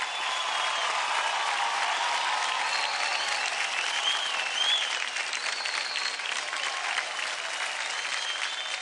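Loud, dense applause from a television dance show audience after a dance performance, steady and unbroken, with faint whoops and cheers rising through it.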